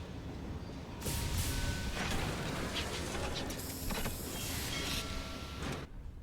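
Locomotive in the game Sunless Skies, a loud continuous rumbling and hissing train sound with surging bursts, sustained for several seconds before cutting off at the end.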